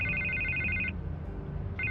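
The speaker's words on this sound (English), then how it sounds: "I can't get the phone to stop ringing." A telephone rings in the Batman Telltale game, a bright electronic trill that sounds for about a second, pauses, then starts again, heard alone over a low background hum.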